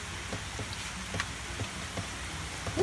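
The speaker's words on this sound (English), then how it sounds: "It's been raining for a good hour or more." Steady rain falls outdoors on a rainy day, a continuous close patter with scattered louder drops, no voices.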